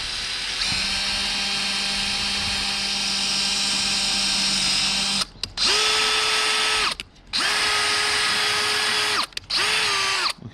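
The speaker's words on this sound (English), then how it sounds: "Now it's time to do the drilling." A power drill whines at a steady pitch for several seconds, then runs in three shorter bursts with brief pauses between them, close and loud, drilling holes to install a side splitter diffuser on a 2015 Lexus RC F.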